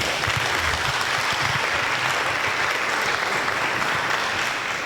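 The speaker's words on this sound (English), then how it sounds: "give yourselves a round of applause" Attendees at a mayor's community family meeting clap for themselves, a thick, continuous roar of applause at constant loudness from start to finish, with no pauses.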